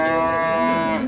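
A cow at a livestock market gives a single loud, close moo lasting about a second.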